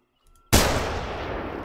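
A single rifle shot at a wisent in the hunting video game The Hunter: Call of the Wild, a sudden loud close blast after near silence, followed by a long booming rumble that slowly fades.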